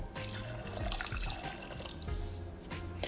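Water is poured from a measuring cup into a pot for candy apple syrup: a continuous close splashing and trickling with a few drips, and no one talking.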